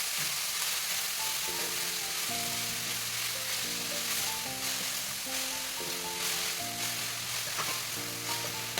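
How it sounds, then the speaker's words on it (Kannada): Grated beetroot frying in a little oil for a beetroot palya crackles in a continuous sizzle, heard up close beneath steady melodic background music, with no talking. "ಸ್ವಲ್ಪ ಎಣ್ಣೆಯಲ್ಲಿ ಚೆನ್ನಾಗಿ ಫ್ರೈ ಆಗಬೇಕು."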